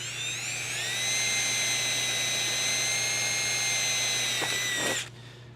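A power drill whines steadily at high pitch for about five seconds as it drills sheet metal, then stops abruptly with a brief clatter; no voices.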